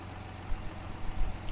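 A tractor engine idles in Farming Simulator 25, a low steady rumble with a slightly uneven pulse that stays at a moderate level throughout the short stretch, with no speech over it.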